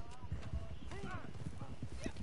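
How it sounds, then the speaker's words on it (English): Horse hooves clip-clop steadily in Red Dead Online, set in the game's New Austin region, a quick rhythmic patter of hoofbeats running under nearly continuous talk. "Oh, you got my horse?"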